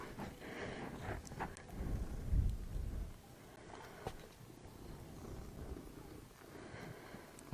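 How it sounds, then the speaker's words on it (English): A cat purrs close by in a quiet room during a yoga session, a soft low rumbling that swells and fades across the clip, with faint rustling and no talk. "I have a cat who's pulling out my ponytail, inch by inch."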